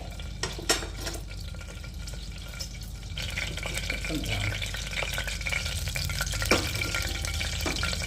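Cardamom, cinnamon, cloves and a bay leaf fry in hot oil as tempering for tomato rice. The sizzle is soft and steady, with occasional stirring clinks and scrapes from a pan close by.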